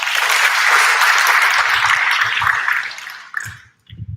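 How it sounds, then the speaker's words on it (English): Conference audience applauding after a law school representative is introduced, a dense even burst of clapping that holds steady, then thins and fades out near the end, leaving a few faint stray sounds. "Please give applause."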